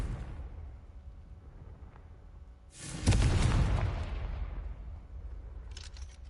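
A Confringo fire spell from Hogwarts Legacy erupts in one loud booming blast that rolls off into a fading crackle, preceded by quiet game ambience and followed by faint clicks.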